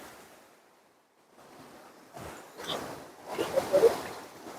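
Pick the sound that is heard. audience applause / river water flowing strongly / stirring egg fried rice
river water flowing strongly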